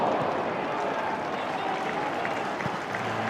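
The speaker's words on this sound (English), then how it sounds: "a ripple of applause for it" Football stadium crowd at an FA Cup third-round match, Sheffield United v Cardiff City, giving a steady ripple of applause for a decent cross, a broad continuous wash of clapping and crowd noise throughout.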